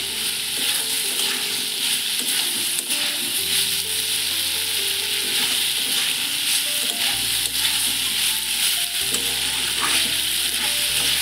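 Panch phoron spices, bay leaf, ginger, cumin and tomato sizzle steadily in a pan for a vegetarian soybean curry, with continuous close frying hiss and occasional stirring scrapes, no voices.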